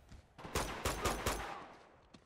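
Grenade launchers firing in the Uncharted 2 action game: a cluster of four heavy, booming blasts in quick succession, each with a loud sharp onset and a rumbling tail, following quieter distant combat noise.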